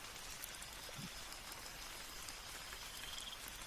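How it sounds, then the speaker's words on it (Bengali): Light rain falling at night in a forest setting, a steady soft hiss of drops on surfaces, even and continuous with no voices. "হালকা হালকা বৃষ্টি,"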